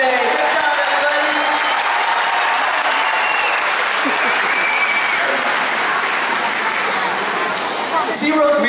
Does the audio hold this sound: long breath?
no